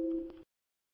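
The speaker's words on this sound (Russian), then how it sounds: "вы слышите звук чата, а я не слышу" A short electronic chat notification tone, steady and pitched, rings for under half a second and then cuts off into silence.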